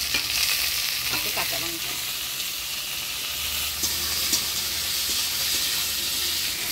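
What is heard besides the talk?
potatoes frying with black cumin and chopped onion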